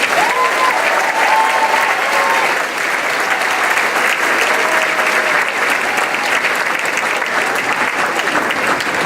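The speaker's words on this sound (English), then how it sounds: "And for this group of graduates, an applause." Sustained applause from a large audience fills a high school graduation ceremony, steady and loud throughout, with faint voices and whistles above it.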